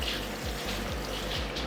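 Water runs steadily from a salon tap while hair is rinsed, a close, continuous gushing and splashing with no voices.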